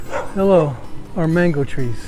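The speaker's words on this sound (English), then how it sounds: "And that was a dog." A dog barks and yips a few times from near a road in rural Waimanalo, Hawaii, while a cyclist on a recumbent trike talks over it.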